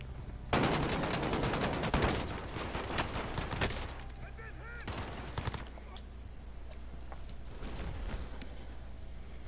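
Rapid gunfire in the video game Call of Duty: Warzone, dense bursts over the first few seconds and then sparser shots, with players talking over the action.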